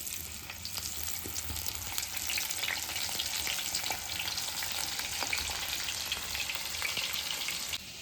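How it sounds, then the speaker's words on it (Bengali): Fish fries one piece at a time in hot oil in a black iron kadai, a continuous soft sizzle with faint crackles and pops, heard steadily up close with no speech. "এবার আমি মাছটাকে এক এক করে ভেজে নেব।"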